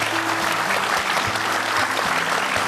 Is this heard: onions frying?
no